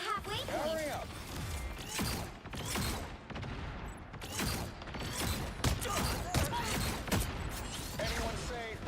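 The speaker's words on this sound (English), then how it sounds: "Anyone say fireworks?" Video game fireworks crackle and burst in rapid, irregular volleys of sharp pops and bangs, loud and close, amid other game effects and a player talking.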